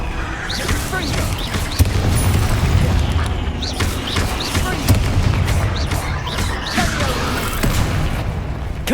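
Confringo explosive spells blasting in Hogwarts Legacy combat, repeated booming impacts and crashes layered with game effects, loud and dense, with voices shouting spell names over them.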